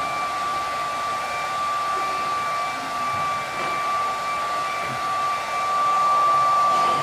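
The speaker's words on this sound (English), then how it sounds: "So we're blowing it dry now to dry out the blood." A hair dryer blowing steadily on a blood sample smear to dry it, a constant close whooshing roar with a high whine, alone with no talk.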